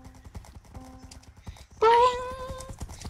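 Horse hooves clip-clopping in Minecraft, a quick run of light steady hoof clicks with a loud whinny rising briefly in the middle, heard alone without talk.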